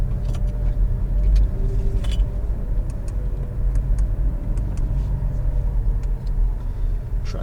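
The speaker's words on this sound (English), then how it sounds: "All right, let's get the car into gear." A Porsche Cayman GTS engine rumbles steadily on a driving course, a low, continuous, fairly loud drone with no voices over it.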